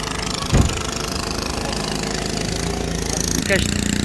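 Small boat's engine running at Fort Munro, Dera Ghazi Khan, a steady low rumble continuing throughout with a couple of brief louder thumps, while people talk nearby.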